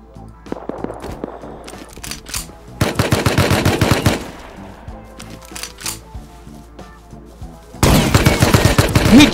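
Rust firefight: repeated bursts of rapid automatic gunfire, loud and close, in several separate volleys with brief lulls between them.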